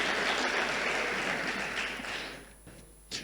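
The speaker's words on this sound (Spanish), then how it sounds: "Un aplauso para los chicos de multimedia." Audience applause in a television studio during a Sunday show, a dense steady burst of clapping that fades over about three seconds into a quieter room.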